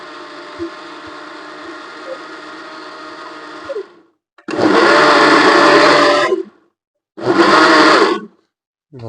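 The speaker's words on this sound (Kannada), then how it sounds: "ಚಾಲು ಆಯ್ತು ಮಿಕ್ಸರ್." A kitchen mixer grinder whirs loudly while grinding masala, running steadily for about four seconds, then starting again in two short, louder bursts separated by silence.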